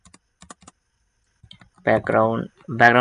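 A few light, quick keyboard clicks from pressing the Ctrl+Slash shortcut while editing CSS code. The soft taps come in short clusters before a person starts talking nearby.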